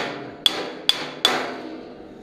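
A metal hammer taps dings out of the steel fender of a 1966 Ford Galaxie 500 convertible, three sharp ringing strikes spaced about half a second apart, close and clear with a brief metallic ring after each blow.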